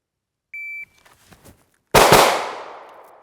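A shot timer beeps briefly at a shooting range, faint handling noises follow, and then one sharp, loud gunshot is fired at a target, its blast ringing out and decaying over about a second.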